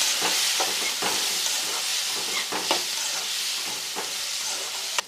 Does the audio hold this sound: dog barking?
no